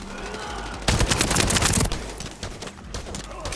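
Weapon fire in the looter shooter The First Descendant, with a loud, dense automatic burst lasting about a second, then lighter scattered shots and rattling under quieter game ambience.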